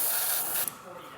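An airbrush sprays water through to flush out leftover red basecoat paint, giving a steady close airy hiss for about half a second before it drops to a softer, quieter spray.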